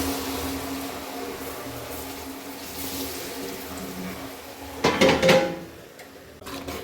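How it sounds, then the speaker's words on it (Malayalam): Tirunelveli halwa mixture stirred in a pan, a soft steady scraping that briefly turns into a louder, close clatter of the utensil against the pan toward the end, with no talking. "ഇങ്ങനെ തന്നെ നന്നായിട്ട് ഇളക്കി കൊടുക്കുക."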